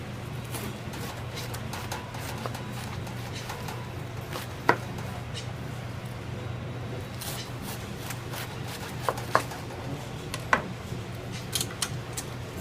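A commercial food slicer cutting heads of lettuce, its motor humming steadily underneath irregular sharp clicks and scraping taps from the blade and carriage, fairly quiet and close.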